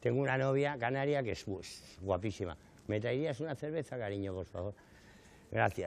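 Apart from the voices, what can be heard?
No distinct noise like a dog, phone or traffic.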